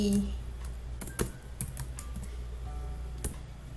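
Keys clacking on a computer keyboard as text is typed into Photoshop, a sparse run of separate light taps with irregular pauses over a low steady hum, close and fairly quiet.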